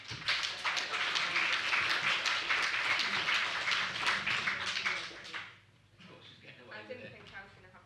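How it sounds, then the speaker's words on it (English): A workshop audience applauds loudly and steadily for several seconds, then the clapping dies away and a voice begins speaking. "Can we have a round of applause for Claire then"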